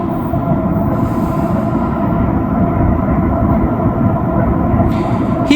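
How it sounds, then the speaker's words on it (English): A train approaches on the track, heard as a loud, continuous, deep rumble with a steady hum and no voices. "we got a train coming"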